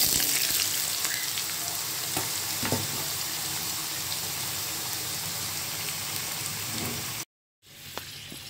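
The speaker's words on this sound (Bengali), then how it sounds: "এখন আমি তেলের মধ্যে পেঁপে আর আলু দিয়ে ভেজে নেব।" Papaya and potato pieces fry in oil tempered with cumin, cardamom, clove and cinnamon, giving a continuous close sizzle with light stirring knocks before a brief silent gap near the end.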